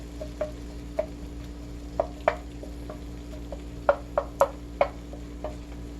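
A utensil stirring caramelizing sauce with avocado oil in a wok: sparse, irregular clicks and light scrapes against the metal, quiet and close, over a steady low background hum with no talking.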